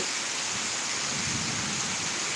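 Rain falls during a thunderstorm as a steady, even hiss of drops on surfaces, filling the whole clip with no distinct thunderclap.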